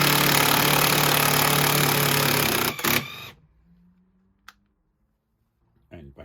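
Ryobi R18IW3 cordless impact driver on setting 3 driving a screw: a loud, dense buzzing hammer for about three seconds, then it cuts off abruptly, leaving near silence with a couple of faint clicks.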